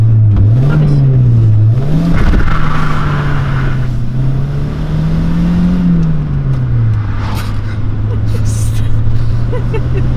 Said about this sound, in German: Aber ich habe die Reifen durchgedreht.